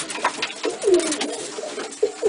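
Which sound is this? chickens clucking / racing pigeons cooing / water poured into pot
racing pigeons cooing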